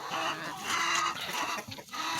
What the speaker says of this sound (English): Now let's leave the chicken coop.